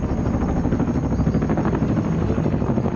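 Soviet military helicopter in Afghanistan, its rotor chopping in a steady, loud, continuous thump over a low engine rumble, with no voices present.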